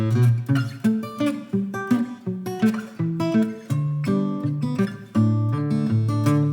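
Acoustic guitar plays a fingerpicked piece with bass notes and melody together, a steady run of clear plucked notes and chords throughout.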